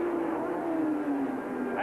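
Didier Pironi's Ferrari Formula 1 car races past at Crowthorne during the 1982 South African Grand Prix, a distant engine whine sliding slowly downward in pitch beneath a commentator's voice.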